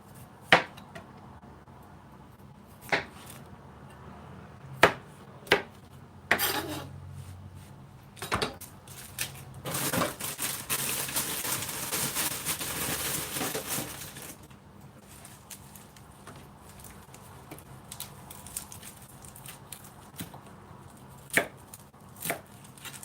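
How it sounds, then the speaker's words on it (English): Food that is mostly water is chopped with a knife on a board, scattered sharp knocks alternating with a stretch of rapid continuous chopping, close and clear in a quiet kitchen. "This knife is definitely better to chop with"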